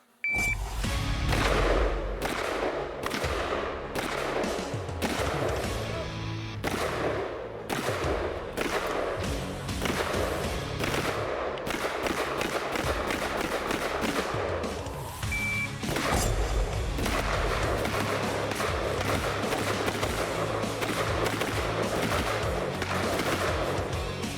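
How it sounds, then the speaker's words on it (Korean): Soldiers fire in a shooter-transition drill at an army range, sending out loud, rapid volleys of sharp gunshot cracks in bursts with brief pauses between them. "저희가 우발 상황 대비해서 사수 변환 사격도 하고"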